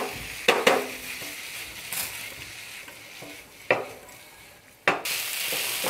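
Mushrooms and pasta being stirred in a hot pan over raised heat, with a steady low sizzle and a few sharp scraping clicks of the utensil against the pan, close and clear with no talk.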